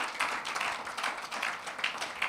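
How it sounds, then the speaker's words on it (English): Audience members at a STEM festival launch event clap together in a brief, moderately loud burst of applause, an even patter of hands with no talking over it. "give ourselves a round of applause"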